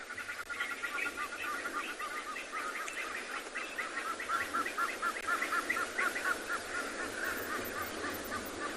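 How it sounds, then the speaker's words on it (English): A chorus of crested francolins' harsh, repeated cackling calls fills the air continuously at sunrise on safari, rising and falling in rhythm over a dense outdoor background. "Crested francolins."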